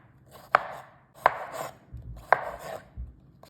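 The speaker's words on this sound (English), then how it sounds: "Chop half of a cucumber" A knife chops half a cucumber on a cutting board, three crisp, evenly spaced strikes, close and clear, each with a short crunchy tail and no talking.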